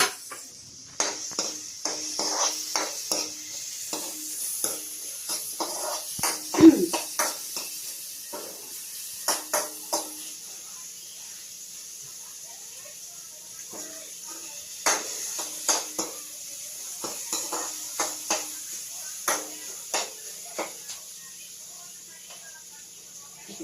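Onions sauté in a pan, a soft steady sizzle running throughout while a utensil scrapes and taps against the metal in irregular stirring strokes, fairly faint and close.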